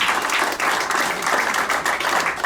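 An audience at a community candidate forum claps for the candidates, steady dense applause from many hands, close and continuous for a couple of seconds with faint voices mixed in.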